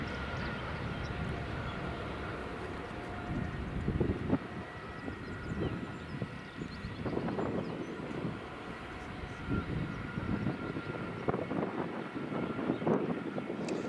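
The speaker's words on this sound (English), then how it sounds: "We have British Airways A320 just taxiing in now." A British Airways A320 taxiing in at Edinburgh Airport, heard as a steady engine rumble and whine that runs throughout, with bursts of wind buffeting the microphone.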